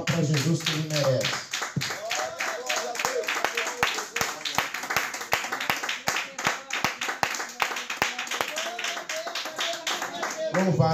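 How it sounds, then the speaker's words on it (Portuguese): A church congregation applauds during a service, with dense, rapid hand claps continuing for several seconds after a brief spoken line at the start. "dê uma linda salva de palmas para Jesus"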